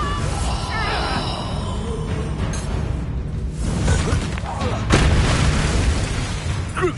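In Hogwarts Legacy, a Bombarda spell goes off in a heavy booming blast with a crackling, shattering tail, set against a dense, loud backdrop of game effects and rumbling.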